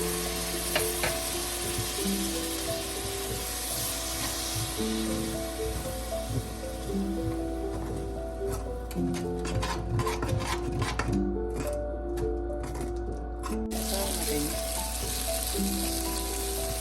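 Tomatoes fry in a garlic-ginger tadka of oil and ghee, a steady, fairly quiet sizzle with scraping and stirring of the pan, with no talk.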